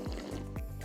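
Hot water pours and splashes into a bowl of Weet-Bix and protein powder in a home kitchen, giving brief liquid gurgles close by.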